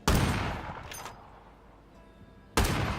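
A .50 caliber gun in the video game State of Decay 2 fires loud, booming blasts, one burst at the start and another near the end, with a decaying echo between them.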